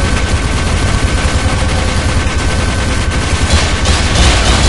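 Dense, continuous gunfire from the video game Team Fortress 2 in Mann vs. Machine mode, loud bursts and rapid shots overlapping with booms throughout, no talking.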